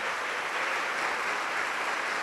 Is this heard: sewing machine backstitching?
no